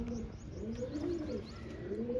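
A golden female pigeon coos nearby in soft, rolling, throaty notes, with faint chirps of smaller birds in the background.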